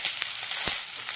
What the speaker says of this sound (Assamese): কাৰি পাতা কেইটামান পেলাই দিলোঁ